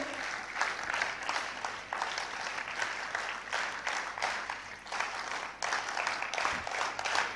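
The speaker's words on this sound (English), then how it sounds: "एक बार NSS clap हो जाए हमारे speakers के लिए" A seated audience at a national youth festival summit claps for a mental health panel, sustained and even crowd applause with a soft background hum.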